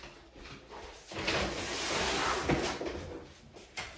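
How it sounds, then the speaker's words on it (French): A door swings shut with a rising rush of air and rattle, ending in a soft thud and a small latch knock, close in a room under renovation, no talking. "Je vais fermer la porte, je reviens."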